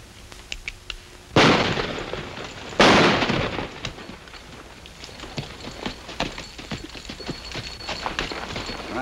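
Gunshots ring out in a William Boyd western: two sharp, loud shots about a second apart, followed by rapid clip-clop of horse hooves running beneath.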